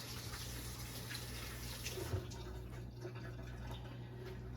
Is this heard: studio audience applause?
no